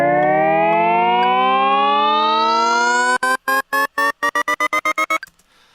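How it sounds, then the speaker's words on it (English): A synth riser climbs steadily in pitch while a low-pass filter slowly opens and brightens it. For its last couple of seconds it is chopped into rapid rhythmic bursts that cut off abruptly. The riser is loud and sounds alone. "I slowly changed the filter to make it open up over the course of the riser"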